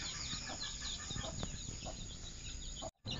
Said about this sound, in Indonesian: Ayam bulu terbalik,